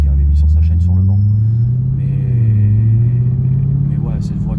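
A tuned BMW 135i making around 400 horsepower rumbles with a deep, steady low drone that swells slightly at the start and holds loud and close. A few voice-like fragments appear faintly over it.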